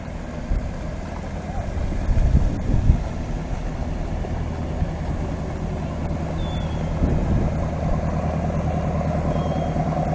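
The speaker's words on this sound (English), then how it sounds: "We've got the Popeye boat coming through right now." Popeye tourist boat passing along a river, its engine a low steady rumble that swells as it draws near, with faint voices and outdoor background.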